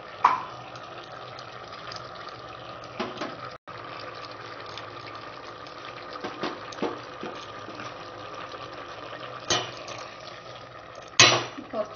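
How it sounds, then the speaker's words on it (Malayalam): Tamarind water mixed in a grinder jar is poured into green pigeon pea curry, a steady close trickle and splash running for several seconds with a few sharp clinks and knocks of the jar along the way. "ഈ ജാറിൽ തന്നെ നമുക്ക് പുളിവെള്ളം മിക്സ് ചെയ്തിട്ട് കലക്കി ഒഴിക്കാം."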